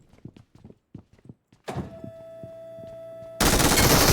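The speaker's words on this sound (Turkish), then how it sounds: "ikisini de vurdum" Gunshots from a video game ring out as a handful of sharp thumps after a short quiet stretch, with a steady tone holding under them. A dense burst of loud noise closes the sequence.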